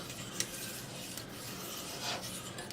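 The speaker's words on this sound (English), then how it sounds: "if you got a nice little side whisk like this" A small side whisk scrapes around a pan while hollandaise sauce is made, giving soft, continuous rubbing and scraping strokes at close range with no talk.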